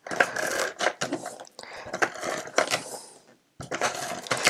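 A tape runner dispensing adhesive tape onto the back of a CD, heard as close, rapid ratcheting clicks and sticky rasps in several bursts with a short pause between.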